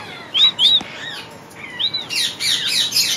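Parakeets at an open bird farm give loud, close, shrill squawks and rising chirps in short bursts, followed by a denser overlapping chatter of several birds, with no talking.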